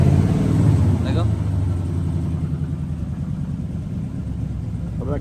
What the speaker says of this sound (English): it's idling kind of high